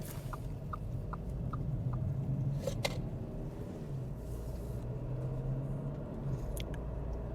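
Steady low road and engine rumble inside an Audi car as it merges onto an expressway, with a few light regular ticks early on and no talking.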